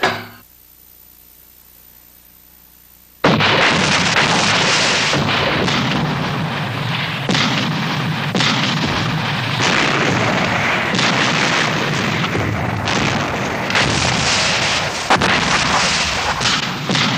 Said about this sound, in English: A great artillery barrage was planned.